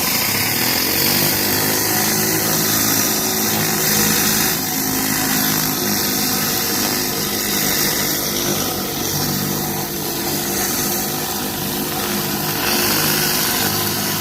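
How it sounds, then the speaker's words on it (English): Pressure washer with a rotary surface cleaner running over paving stones, a loud continuous motor roar with spraying hiss, steady and close for the whole stretch without any talk. "I'm gonna hit it with the surface cleaner"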